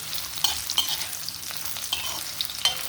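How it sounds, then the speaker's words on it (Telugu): Dried red chillies fry in a pan for a coconut and ivy gourd pachadi, giving a soft steady sizzle with scattered crackles and brief stirring scrapes, close and fairly quiet. "అవి ఇప్పుడు మనకి వట్టిమిరపకాయలు కాబట్టి మనకు కరెక్ట్గా వేగిపోతాయండి"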